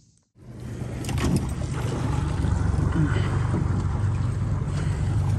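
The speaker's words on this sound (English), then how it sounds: "we're going to get up back on the boat now" Steady low rumble of a boat motor during goose scouting, with wind and water noise, continuous and fairly loud after a brief quiet start.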